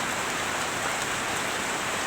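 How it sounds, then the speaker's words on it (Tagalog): Steady rain patters on a surface, a dense, even hiss of drops with no breaks and no voices. "Ulan na, ulan season."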